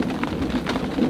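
Outdoors at a campsite in Jonchery, France, a thunderstorm brings steady rain with a low rumble of thunder beneath it, continuous and moderately loud.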